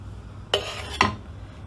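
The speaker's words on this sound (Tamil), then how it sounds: "மசாலா எல்லாத்துலேயும் படுறது மாதிரி நல்லா மிக்ஸ் பண்ணி கொடுக்கணும்" A spoon scraping and knocking in a pan while masala is mixed into a Nagercoil-style raw banana stir-fry, two sharp metallic clinks about half a second apart over a low background hum.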